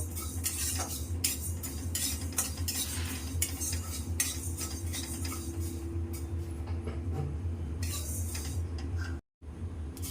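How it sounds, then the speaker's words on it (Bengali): Mustard seeds sizzle in a pan for mango pickle while a spoon or spatula scrapes and taps against the metal in a busy, continuous rhythm, close up, with no voices. "আমরা দেড় চামচের মতন সর্ষে দিয়ে দিলাম দিয়ে এগুলোকে এর সাথে ভেজে নেব"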